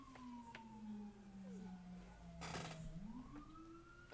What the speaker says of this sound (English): That's a really weird siren.